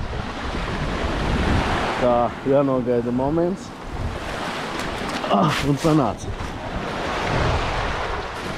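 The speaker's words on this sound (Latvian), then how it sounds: "Ja te ir šitādi viļņi." Sea waves surging and crashing on a rocky shore at the Liepāja southern forts, a loud continuous wash with wind buffeting the microphone, while a person speaks briefly in the middle.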